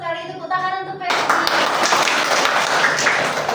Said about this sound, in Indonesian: itu tepuk tangan untuk Febri